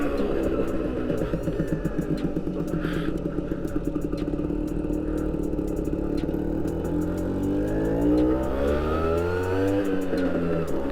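A Vespa scooter engine running while the rider shifts through the gears, a steady buzzing drone that rises and falls in pitch as revs change, with a rattling clatter underneath, loud and close throughout.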